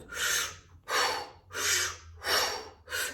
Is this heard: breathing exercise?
yes